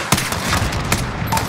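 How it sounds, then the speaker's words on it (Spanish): Rapid bursts of gunfire crack loudly in quick succession in Modern Warfare's American embassy attack mission, several sharp shots over a dense rumbling background of battle noise. "Buen disparo, Kyle!"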